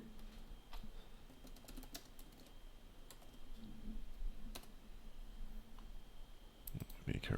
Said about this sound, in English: Be careful with my typing there.